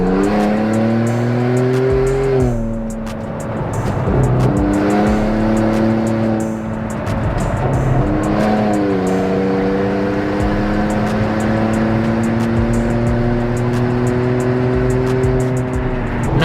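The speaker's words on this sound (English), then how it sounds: "you can do standing burnouts now, do some power brakes" Supercharged 2022 Ford Bronco with a Whipple supercharger doing standing burnouts, its engine revving hard in repeated rising pulls with tire squeal, loud and close.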